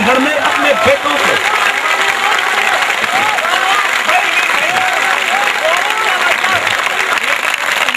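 A poetry recital audience breaks into loud, sustained applause, a thick wash of clapping with some cheering and voices mixed in throughout.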